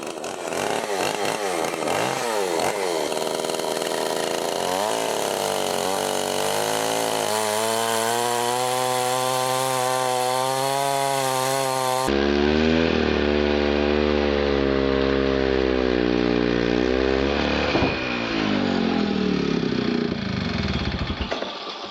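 A power saw whines loudly and continuously, its pitch rising and falling as it bites into oak wood, with no voices.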